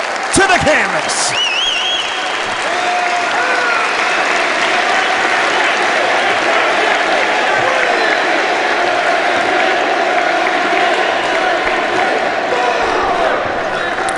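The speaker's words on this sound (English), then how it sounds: "And they're hearing it from the crowd here in Chicago as Tozawa rolls towards the corner." A wrestling crowd in Chicago roars and cheers continuously at a live independent match, a loud, dense sustained din with faint ring and arena noise underneath.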